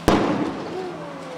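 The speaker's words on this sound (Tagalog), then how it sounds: "May mga naitala ring pagsabog." One sharp blast bursts out during a large house fire in barangay Culiat, Quezon City, then fades into a rough, rumbling tail.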